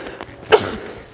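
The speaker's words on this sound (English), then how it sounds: "That was a sneeze, not a rationale." A single sharp sneeze bursts out near the middle, close and fairly loud, followed by a short breathy tail; the moments before it hold only quiet room sound and faint breaths.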